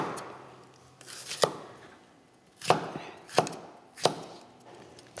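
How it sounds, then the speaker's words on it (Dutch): Knife chopping cucumbers into small sticks on a cutting board, four or five sharp, close thuds spaced irregularly over quiet kitchen background. "Ondertussen ga ik mijn komkommers snijden"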